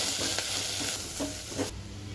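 Ginger-garlic paste and turmeric are stirred into frying onions in a pan for an egg curry, soft spoon scrapes over a constant close sizzle.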